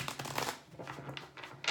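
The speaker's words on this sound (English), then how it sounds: "I'm just giving the decks a few more shuffles" Tarot card decks are shuffled up close in a quiet room, giving a steady run of soft, crisp riffling flutters with no talk.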